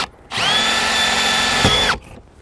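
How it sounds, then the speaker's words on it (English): A power drill bores a starter hole into an RV entry door while fitting a MORryde door latch extender, a steady close whine holding for about a second and a half before spinning down. "Go ahead and drill out one of my holes just a bit, just to get this started."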